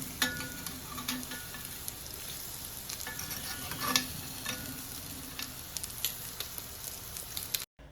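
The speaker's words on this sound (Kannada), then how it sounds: "ಸೊ ಅದಿಷ್ಟು ಚೆನ್ನಾಗಿ ಫ್ರೈ ಆಗಬೇಕು" Spice masala sizzles softly in a cast iron pan while being stirred, a quiet, steady frying crackle broken by occasional scrapes and taps.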